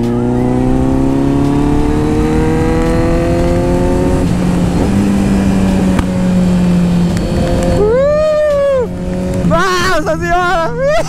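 Kawasaki Z900 motorcycle engine roaring at high revs on a track, a steady loud drone whose pitch climbs through the gears, then sharp rising revs with quick shifts near the end, heard up close from the rider's position.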